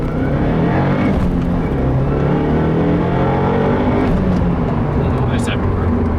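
A tuned 2015 Subaru WRX accelerates hard in first gear, a loud close engine roar with rising revs, heard from inside the car with a voice speaking over it.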